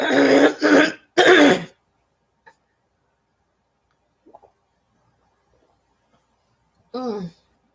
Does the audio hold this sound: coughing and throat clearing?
yes